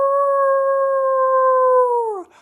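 A single long, loud, steady howl in imitation of a wolf, sung by a person at close range, holding one pitch for about two seconds before dropping off at the end.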